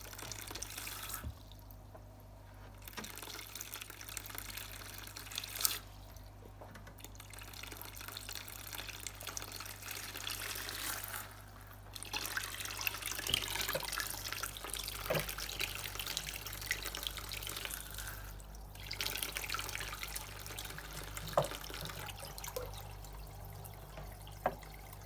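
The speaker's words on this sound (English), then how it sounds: "I'm just going to fill up these 2 buckets of water." Water running from a tap into buckets during fish tank cleaning, a steady close rush of flowing and splashing with a few brief breaks as the flow is interrupted.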